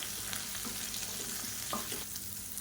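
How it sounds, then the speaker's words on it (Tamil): Chillies, tamarind, a small turkey berry and spices are sautéed in a pan for a chutney, giving a soft sizzle with light stirring scrapes and small crackles, fairly quiet and close. "இப்போ இது எல்லாத்தையும் வதக்கி விட்டுக்கலாம்"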